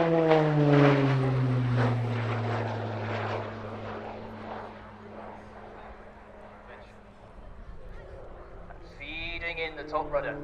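A Short Tucano T.1 propeller trainer flying an airshow display, its engine drone sliding steadily downward in pitch as it passes and fades, then swelling again near the end, with a commentator talking over it.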